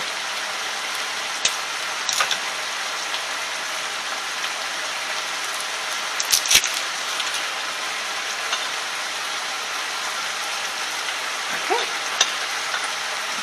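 Cabbage sizzles steadily in a hot pan with garlic powder and ginger sprinkled in, a dense continuous frying hiss with occasional utensil clinks and scrapes, close and without speech.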